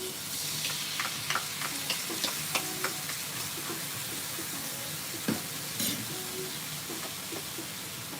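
Sake poured over a rice ball mixture sizzles steadily in a hot frying pan, a soft continuous crackle with scattered pops and utensil clicks, close and fairly quiet.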